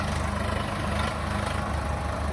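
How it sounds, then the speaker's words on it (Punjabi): A generator runs steadily on a farm during the paddy harvest, a loud, constant low engine drone with no changes in pitch and no talking. "ਦੇਖੋ ਜਨਰੇਟਰ ਸਟਾਰਟ ਆ"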